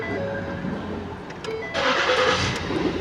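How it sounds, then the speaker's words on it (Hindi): A Ford Taurus with a P0627 fuel pump control circuit fault cranks briefly, then catches and runs with a louder, steady engine roar, recorded close with no talking. "तो अभी हमने गाड़ी को स्टार्ट किया, देख सकते हैं। की ऑन ऑफ करेंगे एक दो बार, स्टार्ट करेंगे।"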